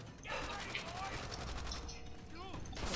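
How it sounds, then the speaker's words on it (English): Rapid machine gun fire in Call of Duty: World at War rattles in quick regular bursts of sharp mechanical clacks, quiet and somewhat distant, with a voice briefly audible among the shots. "Is there someone with a machine gun there?"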